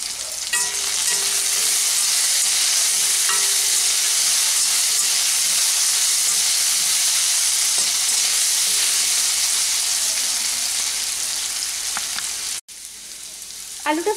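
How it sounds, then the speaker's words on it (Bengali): Potatoes frying in oil with salt, turmeric and green chillies for uchhe alu posto give a loud, steady, close sizzle with hiss and the occasional stirring scrape, cut by a brief break near the end. "আলুটাকে একটু ভেজে নিচ্ছি"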